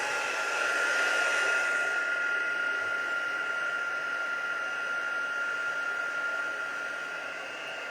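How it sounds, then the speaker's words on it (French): An embossing heat tool set to power level two blows a steady, continuous hiss of hot air, close and fairly loud, with its whine holding level for the whole stretch and easing slightly near the end. "On met évidemment le fer à embosser, le fer à chauffer à la puissance numéro 2."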